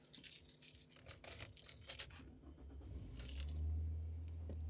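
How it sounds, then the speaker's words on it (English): Keys jangle in a series of quick metallic clinks near a car, followed by a low engine-like rumble rising toward the end. "Keys."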